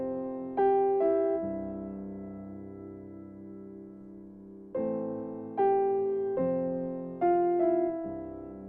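Piano intro of Israel Houghton's 'Your Presence is Heaven' in C, played in octaves: clear sustained notes and chords in two phrases, each opening with a few struck notes that ring and slowly decay.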